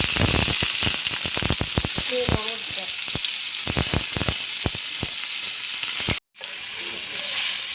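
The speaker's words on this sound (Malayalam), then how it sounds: "ഉണക്കമാന്തൾ വറക്കാം." Loud, crackling sizzle of dried mackerel frying in hot coconut oil, with sharp spattering pops, a brief cut of silence near the end, then frying resumes.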